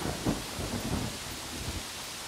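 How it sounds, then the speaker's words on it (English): Rain falling with low rumbling thunder in the video game Yonder, a steady wash of rainfall with a couple of soft low booms, fairly quiet throughout. "Oh, it's going to rain now."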